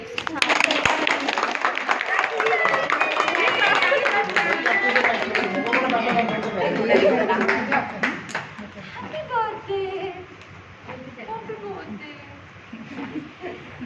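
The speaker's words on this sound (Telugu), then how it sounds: "క్లాప్స్ కొట్టండి." Family and guests clapping together at a first birthday party, a dense burst of applause that fades out as children and adults begin talking.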